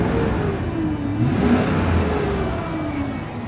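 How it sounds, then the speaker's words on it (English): A 2007 Chevy Silverado 2500 pickup engine revs up and down nearby, a loud rumbling roar that swells and eases over a few seconds. "This engine sounds good when revved."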